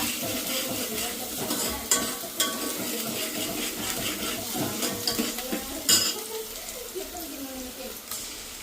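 Chopped onion sizzles in hot oil in a pot for a Malvani-style goat mutton dish, with steady frying hiss, occasional spoon stirs and scrapes against the pot.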